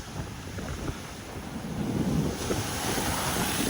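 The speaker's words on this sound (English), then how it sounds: "the waves are crazy" Rough ocean waves crash and churn at a beach in a continuous roar. Gusty wind buffets the microphone throughout.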